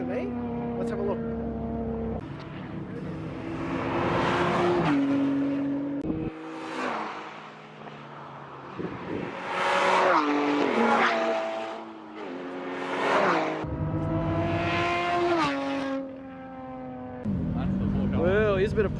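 Car engines rise and fall as race cars, including Porsche GT3s, pass and accelerate on a track, revving repeatedly at moderate distance over several passes.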